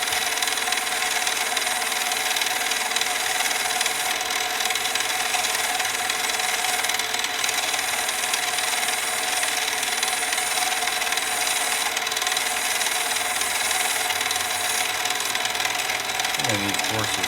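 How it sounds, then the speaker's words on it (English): Sandpaper is forced against the rough inside of a handmade nickel ring, producing a continuous loud, hissing abrasive rub that barely changes for the whole stretch. "I need to force this sandpaper here."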